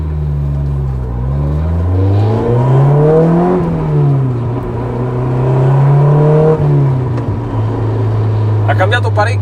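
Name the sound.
Honda S2000 revving with TM Technosport aftermarket exhaust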